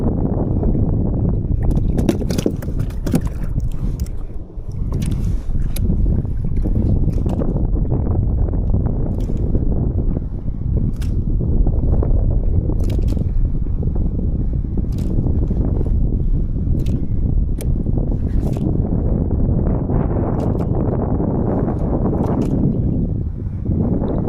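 Wind roars during a storm at sea, a constant loud gusty rush with scattered knocks and clatters over nearly half a minute, without any clear speech.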